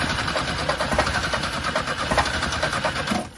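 An old Chevrolet Chevette engine runs, just revived with fuel coming through, in a steady, loud, close mechanical drone with slight pulsing. It dips briefly at the end.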